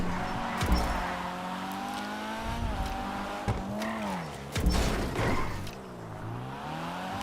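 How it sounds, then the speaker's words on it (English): A car skids out, with a strained engine drone held steady beneath long, wavering tire squeal that rises and dips, loud and close throughout. "It's skidding out, it's got to stop."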